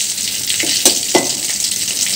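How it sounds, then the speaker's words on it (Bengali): Fish sizzles steadily as it fries in a pan, a constant close hiss with a few sharper spits and pops breaking through. "আমার মাছ ভাজা হয়ে গেছে।"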